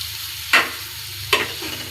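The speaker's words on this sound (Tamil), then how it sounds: "நல்லா கலந்து விட்டுக்கலாம்." A spoon stirs mango rice in a sizzling pan, with two distinct scraping strokes rising over a soft, steady frying hiss close by.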